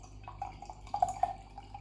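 Thick, viscous Vault City sour beer pours from a can into a glass, producing faint, soft glugs and drips in a quiet room with no talking.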